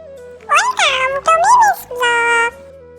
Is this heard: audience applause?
no